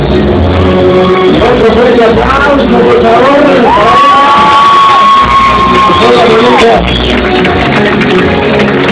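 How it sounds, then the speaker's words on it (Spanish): A loud crowd at a quinceañera party cheers and whoops continuously, with shouting voices and a long sustained yell rising over the din. "¡Aplausos, por favor! ¡Aplausos!"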